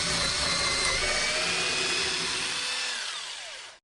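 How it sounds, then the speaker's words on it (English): Power drill grinding into wood, a loud continuous whine with gliding tones from the bit's resistance that holds steady, then winds down and cuts off at the end. "I like the sound of like the resistance you can hear when it's drilling into the wood."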